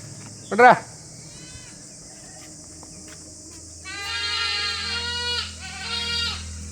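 A crossbreed dairy goat gives one short, sharp bleat, then after a pause lets out longer, wavering bleats at close range in a quiet farm setting.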